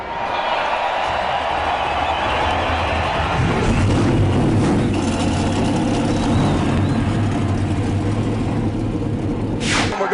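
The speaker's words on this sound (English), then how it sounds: "Ladies and gentlemen, start your engines." Race car engines at the Daytona 500 start and run as a loud, continuous low rumble with a rising roar, set against crowd noise at the speedway.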